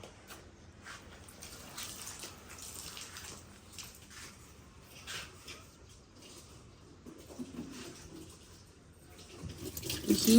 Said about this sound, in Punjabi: ਮੈਂ ਪਾਣੀ ਪਾਵਾਂ ਉਹਦੇ ਵਿੱਚ ਮਸ਼ੀਨ ਵਿੱਚ